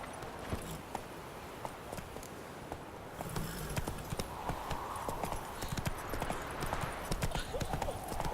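Roach, the horse in The Witcher 3: Wild Hunt, drums its hooves in a steady clip-clop rhythm that speeds into a quicker gallop halfway through. The hooves stay moderately loud throughout, over quiet ambient game sound.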